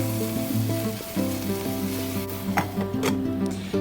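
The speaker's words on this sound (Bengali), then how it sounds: "ভালো করে পেঁয়াজ আর আদা রসুনের পেস্টটাকে আমি ভেজে নেওয়ার পর এর মধ্যে আমি কাঁচা লঙ্কা অ্যাড করে দিচ্ছি" Onion, ginger-garlic paste and green chilies fry in a pan with a steady, close sizzle beneath a constant droning hum, broken by a few soft stirring knocks.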